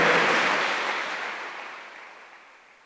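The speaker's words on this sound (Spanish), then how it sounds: "dele un aplauso al Rey" Church congregation applauding during a Spanish-language sermon, a broad wash of clapping that starts loud and steadily fades away over a few seconds, with no voices.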